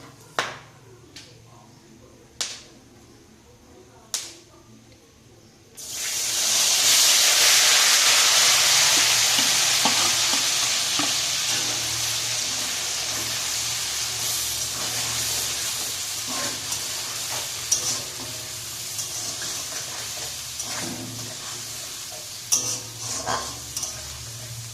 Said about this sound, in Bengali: ওই তেলের মধ্যে কিছু গোটা মশলা ফোড়ন দিয়ে আগে থেকে পেস্ট করা পেঁয়াজ ও লঙ্কা তার